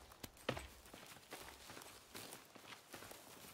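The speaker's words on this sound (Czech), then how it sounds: "Slyšíš to? Takový to divný dupání?" Heavy, irregular stomping footsteps in The Forest video game, a string of thudding steps at moderate distance with no talk over them.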